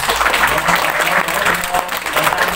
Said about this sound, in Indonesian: Kita beri aplaus sekali lagi, ya